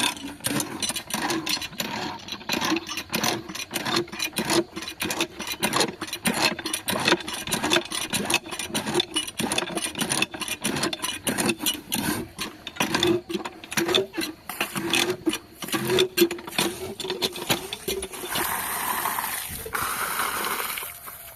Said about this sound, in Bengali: তো গাইস দেখো মোটর চালু হয়ে গেছে